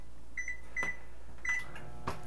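A microwave oven runs with a steady low hum, broken by a few short beeps and clicks, heard alone without voices.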